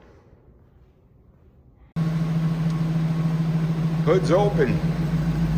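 A 1930 Ford Model A street rod's 302 engine turns over and settles into a steady, even idle with its hood open, a loud constant hum continuing alone after a quiet start, with a voice briefly heard.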